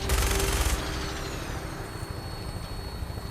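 Burst of gunfire aimed at a Mirelurk in the video game Fallout 4: a dense, loud volley at the start, then the shooting stops and a low engine-like hum continues with faint scattered clatter.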